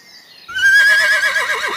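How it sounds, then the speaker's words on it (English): A loud horse neigh starts abruptly, a high whinny that trembles and wavers into a shaky, fluttering end, heard on its own. "Horse."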